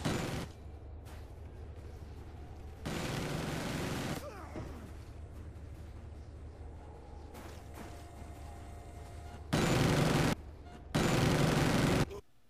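Automated sentry gun in Call of Duty: Black Ops rattling off bursts of rapid gunfire at enemies, loud sustained volleys recurring several times over a steady background of game noise.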